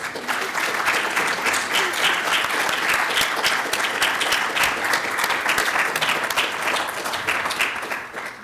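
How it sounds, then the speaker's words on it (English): An audience applauds advisors at the opening of a 3D printing conference. The clapping is steady and dense and carries on for about eight seconds before it tapers at the end. "so we could give you a round of applause"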